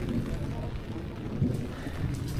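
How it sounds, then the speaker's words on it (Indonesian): Steady rain falls at a campsite on a forested mountain trail up Mount Slamet via Bambangan, a continuous hiss with a faint low rumble and no clear voices. "Sampai di pos 5 hujan."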